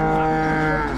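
A cow at a crowded cattle market lows in one long, loud, steady moo close by, filling the whole moment.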